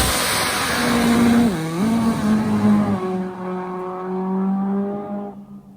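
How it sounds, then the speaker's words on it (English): Drag racing motorcycles at Pro Western Extreme Drag Racing in Fontana, California, nitro-fuelled Harleys and turbo Hayabusas, making a pass: a loud, sustained engine roar with pitch rising and dipping through gear changes, then fading as the bike pulls away. "First pass of the day. Fontana, California, Pro Western Extreme Drag Racing."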